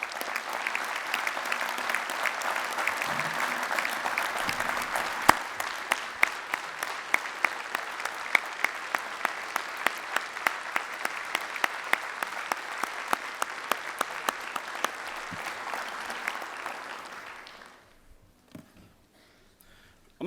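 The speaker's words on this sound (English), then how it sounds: "I think we should give Gary Ruffner a round of applause." An audience at a 2015 UWUA union national convention gives a long round of applause. Dense, steady clapping fills the hall for about seventeen seconds, then fades out to near silence.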